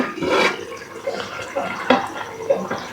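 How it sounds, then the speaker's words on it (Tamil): Water for tomato rice boils in a covered pot, bubbling and gurgling close by with irregular louder pops and splashes. "தண்ணி நல்லா கொதிச்சிட்ருக்கு."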